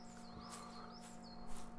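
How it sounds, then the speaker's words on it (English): Faint, high bird chirps from the video game Rising World repeat a few times over a steady low hum and soft background noise. "You hear the birds singing?"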